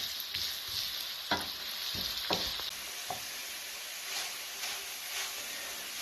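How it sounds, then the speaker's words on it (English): Corn tortillas frying in oil in a pan, a continuous bright sizzle with occasional sharper pops and clatters of turning them, steady and close with no talk. "frying the corn tortillas. Some of them are starting to crisp up."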